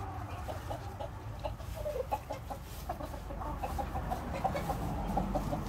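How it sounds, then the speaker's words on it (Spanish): A calabazo gamecock rooster clucks softly in short, scattered bursts, fairly faint over a low, steady background rumble. "Aquí tengo un gallito calabazo."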